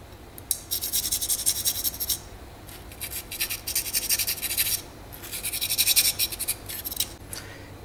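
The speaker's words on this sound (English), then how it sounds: "I've gone ahead and sanded the edges of the frame now." Rhythmic rasping strokes of a file working the edges of a Hiller 450V2 model helicopter frame come in three close bursts of rapid scratching, separated by short pauses, with no voices.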